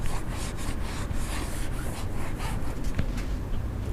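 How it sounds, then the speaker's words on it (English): An applicator rubs tire gel onto a tire in steady, close back-and-forth strokes, a soft continuous scrubbing with no talk. "Add some tire gel, take your applicator and put it on."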